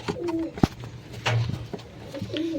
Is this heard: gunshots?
no